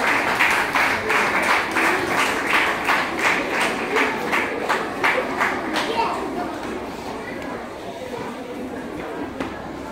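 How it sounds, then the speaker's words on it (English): Steady crowd applause at a school poetry parade, many hands clapping together in a dense rhythmic patter that gradually fades toward the end. "Please give them a round of applause."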